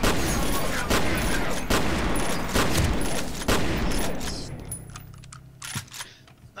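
Bursts of rapid gunfire from the first-person shooter F.E.A.R. Resurrection fill the first few seconds, loud and dense, then thin out to scattered shots and clatter.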